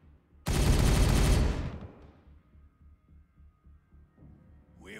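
A loud burst of rapid automatic gunfire in the Warhammer 40K Regicide video game, about a second long, then fading into a low rumbling tail and quiet game ambience.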